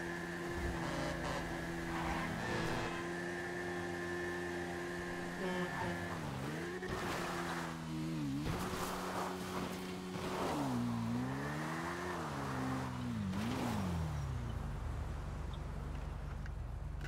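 A motorbike in Grand Theft Auto 5 revs and shifts steadily, its engine pitch repeatedly rising and dipping, with game sounds layered over it.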